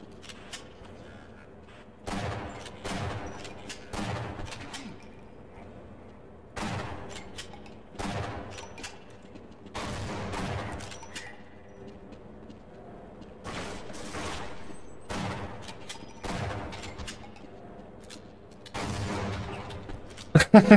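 Explosions and gunfire in the video game Half-Life, arriving as repeated loud bursts of shots and blasts a few seconds apart, separated by quieter gaps of low background noise.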